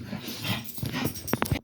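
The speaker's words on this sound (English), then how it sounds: "that was my dogs" Dogs vocalise close by in a short burst, a few sharp yips and whimpering growls crowding the end of a noisy moment before cutting off.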